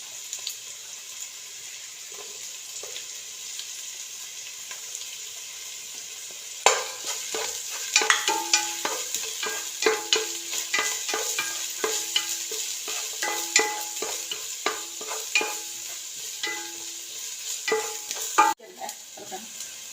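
Onions fry in a pan for mussel biryani, a soft sizzle at first, then a burst of scraping and stirring clatter with repeated utensil knocks against the pan.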